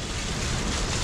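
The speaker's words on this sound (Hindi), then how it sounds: "बारिश हो गई है चालू" Steady rain pours down during a monsoon ride on a KTM Duke 250 motorcycle, a dense even hiss with no voices.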